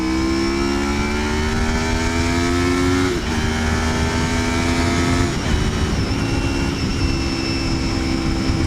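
A 1987 Honda VFR400R motorcycle engine held near full throttle, a loud, steady high-pitched whine climbing slowly in pitch with brief dips around gear changes, continuous and close throughout.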